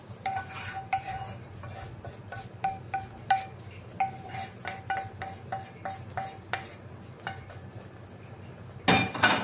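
A spoon stirs sesame halawa in a metal pot with repeated scraping strokes at an uneven pace, close and fairly quiet, ending in a louder burst of clatter.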